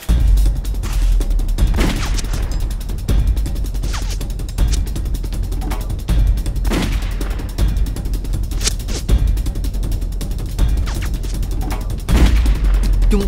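Loud gunfire in a sci-fi short film, a dense barrage of sharp shots and bursts that keeps going steadily across the whole passage with no voices.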